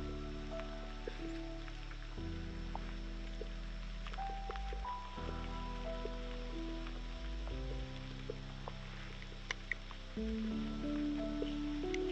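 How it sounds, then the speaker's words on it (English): Light rain ticks and drips faintly around a forest hunting walk with a Finnish Spitz, scattered soft drops and faint rustling beneath a low steady hum. "Well, this light rain doesn't matter."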